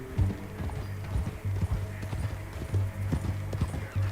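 Horse hooves clip-clop in Red Dead Redemption 2, a steady walking rhythm of close, soft thuds with a faint low tonal hum behind them.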